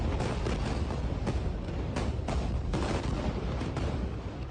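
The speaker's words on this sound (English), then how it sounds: "those are huge explosions, presumably caused by Israeli airstrikes, next to, very close to, a major hospital in Beit Lahia in northern Gaza" Huge explosions from Israeli airstrikes near a major hospital in Beit Lahia, northern Gaza, heard as a dense, continuous roar of blasts with repeated sharp booms, loud throughout.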